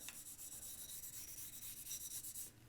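Rosin is rubbed onto a violin bow in quick back-and-forth strokes, giving a steady, close, dry rasping scrape that repeats evenly throughout and stops abruptly near the end.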